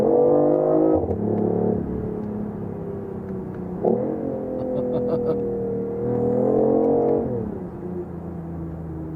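A BMW i8 sports car on the move, its engine droning loud and near with a rising tone that falls back at each gear change, heard three times, with no talk.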